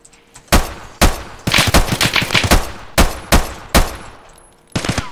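Video game gunfire: loud, close single shots and a fast rattling burst of automatic fire, punctuated by sharp cracks spaced roughly a second apart.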